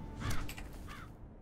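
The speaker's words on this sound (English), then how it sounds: "Oh, fly, Mr. Raven." A raven caws in the fantasy video game Riders of Icarus, two harsh calls about half a second apart over a low, steady in-game ambience, close and fairly loud.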